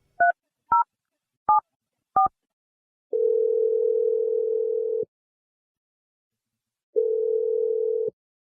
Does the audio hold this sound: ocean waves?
no